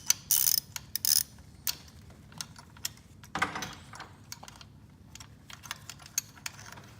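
Ratchet with a swivel clicking as it works a spark plug loose on a 2017 Ford F150 Raptor engine, a close run of sharp metallic clicks and short ratcheting bursts in an otherwise quiet space.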